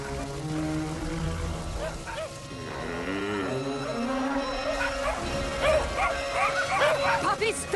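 Several puppies bark and yip in a lively, overlapping chorus, close by, with whimpering mixed in throughout.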